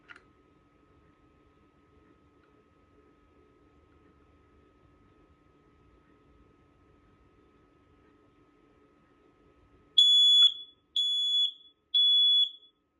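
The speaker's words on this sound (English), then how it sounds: "this alarm is also advertised to simulate a smoke condition when you push the test button" After a long near-silent stretch with a faint hum, a BRK 2002 photoelectric smoke alarm under test sounds three loud, piercing high beeps in a regular pattern, close by.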